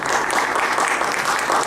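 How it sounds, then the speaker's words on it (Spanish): Steady applause from a seated audience at a talk, welcoming a speaker, dense and continuous clapping throughout with no voices over it. "ya lo recibimos con un fuerte aplauso"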